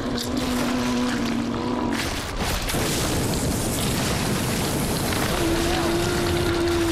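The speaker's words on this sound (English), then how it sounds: "we need to torch some of those sewer things because I have absolutely no other ammo" Flamethrower blasting sewer monsters in Resident Evil 2, a loud continuous roaring rush that fills the whole clip with a steady broadband whoosh and faint tonal hums underneath.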